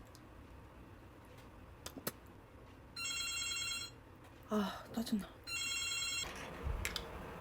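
Telephone ringing in bursts of electronic trills, two separate rings a couple of seconds apart, with a woman's brief muttering and light clicks between them.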